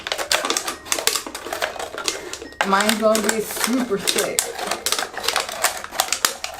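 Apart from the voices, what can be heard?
scissors cutting a plastic water bottle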